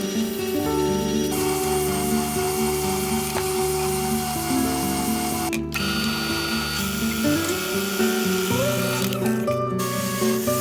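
A drill press bores a handle hole in a walnut cutting board with a steady, continuous whir of the motor and a few pitch shifts as the bit cuts into the wood, close and moderately loud.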